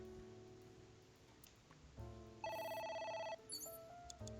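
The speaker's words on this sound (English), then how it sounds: "A phone." A phone rings in AI: The Somnium Files, its electronic tone starting softly and then sounding loud and sustained for about a second, with further shorter ring tones afterward over low game music.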